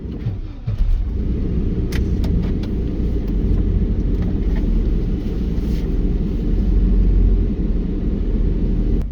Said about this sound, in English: So I am going to go ahead and pull out.